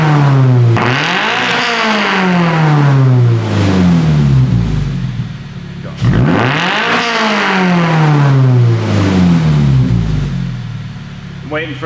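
A Toyota GR86 or Subaru BRZ fitted with a Tomei Expreme Ti exhaust, parked in a quiet tin shop, is revved twice in quick succession, each rev rising sharply to a loud snarl and falling back toward idle.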